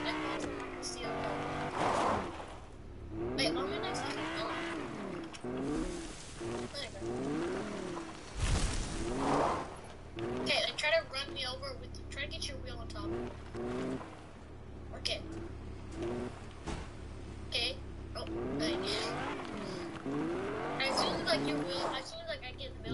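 A car engine hums and revs while the car drives in the video game Fortnite. It runs steadily underneath near-constant, excited talk from players, with occasional louder bursts of engine noise.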